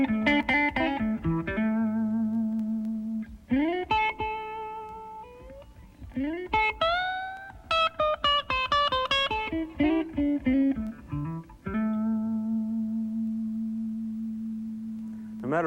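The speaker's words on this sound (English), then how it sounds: "Now I want to show you the electric guitar" Blues and rock style electric guitar played through an amplifier: a run of picked single notes and bends with a few sustained held notes, clean and close, heard alone.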